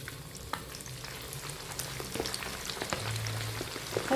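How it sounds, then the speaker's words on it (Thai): Striped clams deep frying a second time in oil over high heat make a dense, continuous bubbling sizzle, close and steady, with faint stirring scrapes and no voices. "เราก็จะนำหอยลายของเราลงไปทอดอีกรอบค่ะ"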